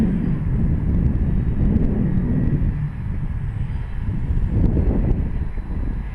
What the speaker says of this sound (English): Like right now it's a bit windy.